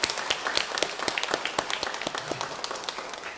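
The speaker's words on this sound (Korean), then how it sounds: "우리 한번 뜨겁게 박수로 우리 환영하도록 하겠습니다" A church congregation claps together to welcome a young newcomer at a Sunday service, a dense, even patter of many hands held steady at moderate loudness from start to finish.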